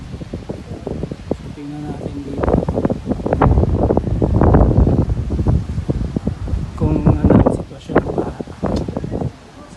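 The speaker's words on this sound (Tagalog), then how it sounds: "Medyo basa pa talaga at mahangin." Gusty wind during a flood in Jeddah, Saudi Arabia, rushes and buffets the microphone, loud and rising in the middle, while a person talks through it.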